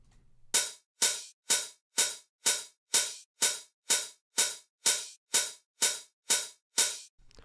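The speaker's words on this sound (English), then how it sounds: "It just makes the hi-hat loop a bit more interesting." Open hi-hat hits repeat in an even, steady loop, each a bright burst of noise decaying before the next, about fourteen in a row.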